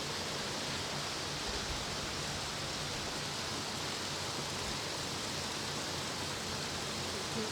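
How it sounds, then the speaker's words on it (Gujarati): Heavy rain pours outside a home as a steady, dense, unbroken hiss that stays loud and even throughout, with no voices. "બહુ જોરદાર વરસાદ ચાલુ થઈ ગયો છે બહાર"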